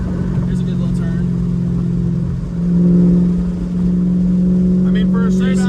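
Shelby GT500 with a straight solid axle driving on the road, its engine holding a steady low drone that swells into a louder rev around midway, close and continuous under someone talking.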